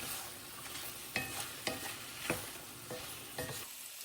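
Carrots simmering low and slow in a pot give a steady close sizzle and bubbling hiss, broken by several sharp clacks of stirring spaced irregularly; no one talks.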